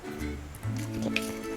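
Pakoda batter with onion and salt being mixed in a bowl, giving soft, close, wet squishing sounds. The sounds are quiet and no one talks.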